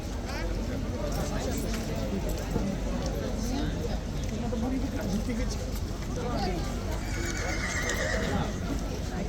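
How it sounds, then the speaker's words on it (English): Horses at Horse Guards, London whinny and neigh amid clopping hooves, with a busy murmur of voices and crowd noise underneath throughout. "The other horses settled down, but making a bit of noise behind us."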